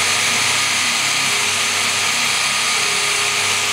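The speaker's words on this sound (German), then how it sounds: "dann kann ich hier fröhlich reinbohren" A power drill bores into wooden beams for a children's marble run build, a loud steady whir with a grinding edge that runs continuously for several seconds and then cuts off abruptly.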